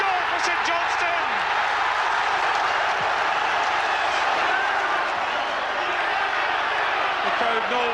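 St Johnstone football fans roar in a packed Scottish stadium, a dense, sustained crowd cheer with scattered claps and shouts running unbroken and loud from start to finish.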